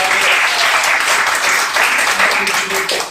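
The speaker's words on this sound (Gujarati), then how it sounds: "જોરદાર તાળીઓ સાથે" An audience at a community outreach kit distribution event breaks into loud, dense applause that holds steady for a few seconds before tapering slightly, with a voice faintly mixed in.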